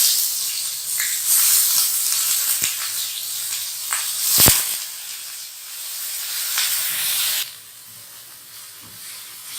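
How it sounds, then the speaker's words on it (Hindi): Onions frying in hot oil in a pan, a loud steady sizzling hiss lasting the whole clip with a few sharp pops, easing somewhat toward the end. "ये हमने ऑयल में प्याज को इतना फ्राई किया है कि प्याज थोड़ी नरम हो गई है।"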